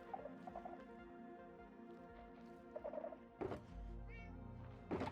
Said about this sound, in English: Oh, you got a cat.